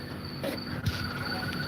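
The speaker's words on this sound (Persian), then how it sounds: "صدای قورباغه ها همه جا رو فرا گرفته" Outdoors at night, a steady chorus of calling frogs or insects trills continuously at a moderate distance, a high, even drone with a soft breathy swish or two and no speech.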